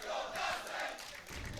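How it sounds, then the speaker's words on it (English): A large live audience at a Guilty Gear Strive top 8 fighting-game tournament, The Mixup 2023, roars and cheers for a Happy Chaos player, a loud sustained wash of crowd noise that swells and dips. "2023, people cheering for a Happy Chaos player"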